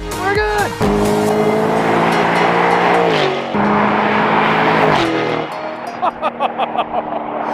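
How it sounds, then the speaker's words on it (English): A loud sports car engine with a straight-pipe titanium exhaust, revving and roaring up through gears, with crackling pops from the exhaust near the end. "FI exhaust, straight pipe exhaust with the red titanium."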